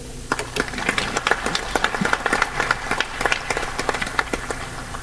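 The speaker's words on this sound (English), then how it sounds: "can we give another round of applause?" An audience at an African Union oath-of-office swearing-in ceremony breaks into sustained applause, many hands clapping densely and steadily throughout, fairly loud and close.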